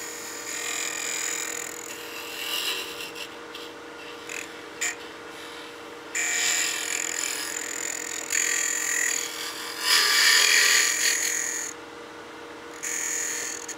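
A sharpened scraper shaves a baby rattle spinning on a wood lathe, the motor humming underneath while the cutting comes in bursts of bright, hissing scrapes that start and stop repeatedly.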